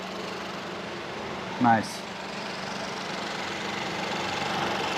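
A Peugeot 2008's 1.2-litre turbocharged engine idling with a steady, even hum throughout, while a voice briefly speaks over it partway through.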